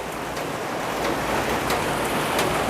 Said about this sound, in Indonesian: Hujannya ini tuh kayak itu loh, nggak yang benar-benar hujan 15 menit nanti berhenti kayak gitu.